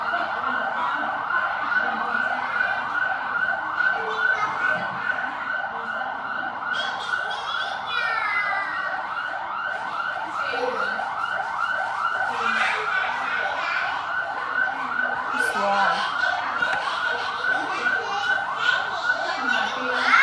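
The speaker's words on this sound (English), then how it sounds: "The ambulance." An ambulance siren wails steadily and loudly throughout, its rising and falling tone continuous from start to finish, while a voice briefly speaks over it.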